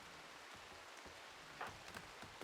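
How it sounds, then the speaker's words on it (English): Psychic rain falls steadily in a Rimworld game, a faint, continuous patter of raindrops with a few slightly sharper drips and no talk. "There is a psychic rain landing on the ground, Spliffy, and it's making people age faster"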